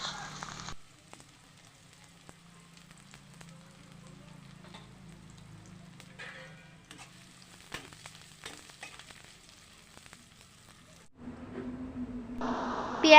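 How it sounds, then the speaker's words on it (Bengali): Chopped onions hiss and crackle in hot oil for a Bengali egg and potato curry, a quiet steady sizzle with light crackles that grows louder at the end. "তেল গরম হয়ে গেছে, দিয়ে দিচ্ছি কুচানো পেঁয়াজ।"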